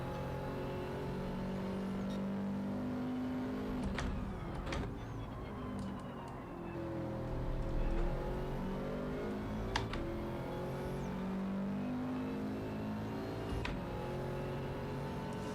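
A Subaru WRX in old-school livery races in Gran Turismo 7, its engine a steady, continuous drone with rising and falling pitch sweeps as it accelerates and shifts, with occasional sharp clicks over the top.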